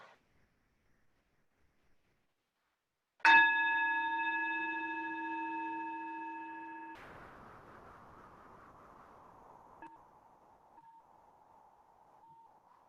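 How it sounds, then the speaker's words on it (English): A mindfulness bell used in a meditation class strikes once, ringing bright and clear with stacked harmonic tones that hang for several seconds, then cut to a soft lingering wash; a faint second tap follows near the end. "bringing gentle awareness to the sound of the mindfulness bell"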